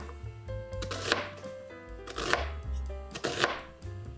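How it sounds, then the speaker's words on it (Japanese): A knife slices a halved onion across the grain into roughly 1 cm strips on a cutting board, a close, steady run of crisp chops over soft background music. "玉ねぎは縦に半分に切ってから繊維を断ち切るように1センチ幅ぐらいに切っていきます"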